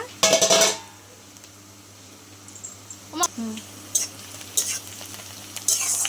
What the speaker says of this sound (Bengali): পেঁয়াজটা হয়েই গেছে ভাজা